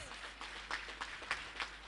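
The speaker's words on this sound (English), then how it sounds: "Please give a huge round of applause for our judges" Faint, distant applause for the judges at a school annual day event: a quiet patter of clapping with a few steady, rhythmic claps standing out.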